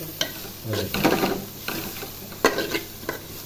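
Cabbage is stirred into sautéing vegetables in a pan for macaroni, with several rhythmic scraping and clattering strokes of a spatula over a light sizzle, close and fairly loud, no talk.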